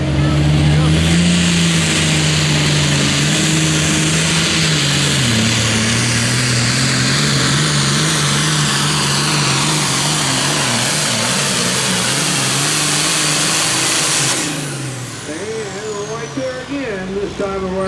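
A super farm tractor roars through a full pass at a tractor pull in Rossville, Illinois, its engine screaming loud and steady with shifting pitch for about fourteen seconds before dropping off and sputtering as it winds down.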